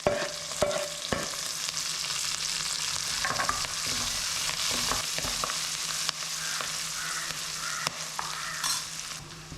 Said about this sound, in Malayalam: നമുക്ക് അതിനകത്ത് പച്ചമുളകും കറിവേപ്പിലയും ചേർത്ത് കൊടുക്കാം